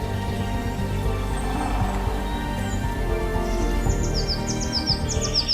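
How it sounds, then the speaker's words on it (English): Magnificent frigatebirds give a few short, high chirping calls on a tropical island, faint and brief, mostly near the end, over a steady bed of low musical tones. "Meet the magnificent Frigatebird."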